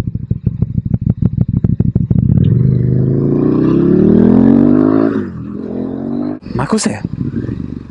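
A KTM Duke 1290 motorcycle engine idles with a rapid, lumpy pulse, then revs up into a loud rising roar before dropping back; a voice speaks briefly near the end.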